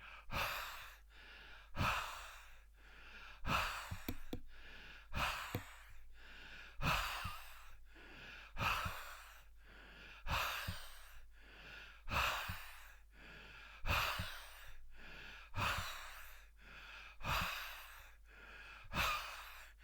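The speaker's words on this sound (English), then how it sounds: "If I breathe onto it," A person breathing repeatedly onto a formaldehyde air sensor, close-up exhalations in a slow, regular rhythm of about a dozen breaths, each a soft airy puff separated by short quiet gaps.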